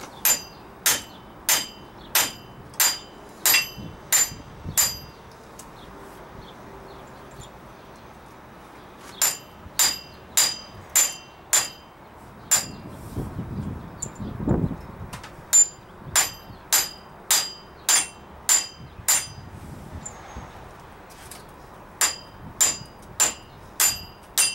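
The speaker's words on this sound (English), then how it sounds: "You have to pound that axle in" Steady series of sharp metallic hammer blows driving the axle into a 2006 Chevrolet Trailblazer front wheel bearing, struck in quick rhythmic bursts of about eight hits with a short pause mid-way, loud and close.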